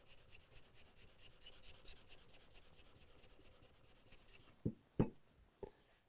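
A knife blade scrapes back and forth across a whetstone in quick, even strokes, a close, faint rasping rhythm that stops after a few seconds, followed by a few sharp taps and clicks.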